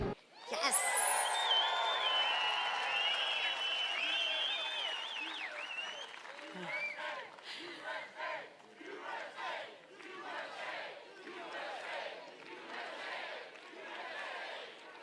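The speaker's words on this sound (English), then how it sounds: "The crowd is ready." A large outdoor crowd at a Mount Rushmore fireworks celebration cheers, whoops and applauds loudly, the roar peaking early then settling into sustained clapping and shouts with a few voices rising above it.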